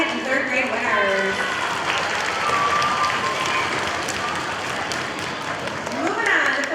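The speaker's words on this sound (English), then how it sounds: "Let's give a round of applause for our second and third grade winners." An elementary school assembly crowd claps loudly and steadily for second and third grade award winners, a dense, continuous applause with children's voices and cheers mixed in throughout.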